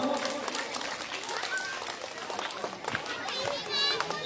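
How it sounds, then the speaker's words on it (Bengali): A crowd at an annual cultural function claps in a steady, fairly faint patter while a voice speaks over it. "সবাই একটা হাততালি মারো।"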